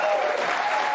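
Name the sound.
studio audience applause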